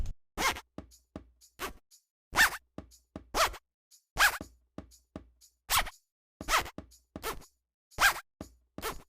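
A zipper sound sample from a drum kit plays as sharp, bright zips repeated about a dozen times in a regular rhythmic pattern. Each zip is close and crisp, with short silences between them and no other sounds.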